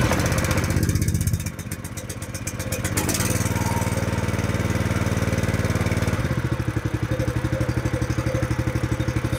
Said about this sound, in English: now we can start the combustion engine